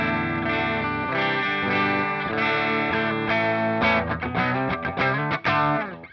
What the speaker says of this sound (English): That'll be going into the Tempus Fuzz.